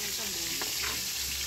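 Fish and eggplant fry in a pan of hot oil, giving a brief, close, steady sizzle with a soft crackle.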